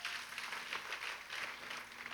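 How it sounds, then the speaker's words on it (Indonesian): A church congregation applauds during a Sunday sermon, a steady wash of many hands clapping together, fairly faint and even for a couple of seconds. "Tepuk tangannya boleh yang paling meriah buat Tuhan kita"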